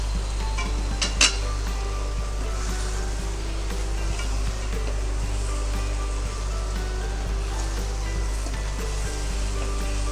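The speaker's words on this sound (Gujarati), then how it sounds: "મુઠિયા એડ કરીને પણ હલાવી દઈશું." Undhiyu vegetables and muthiya are stirred in a pan over a steady sizzle, with soft scraping and one sharp clink of the utensil early on, close and continuous without talk.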